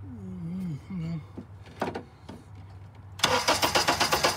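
Car engine turning over during misfire diagnosis, opening with a voice and some clicks, then a loud, steady rhythmic cranking pulse close by for the final second or so.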